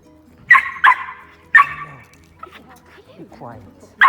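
Milo, a dog in a training session, gives three sharp, loud barks in quick succession near the start, then a whine and small yips, while a person talks nearby.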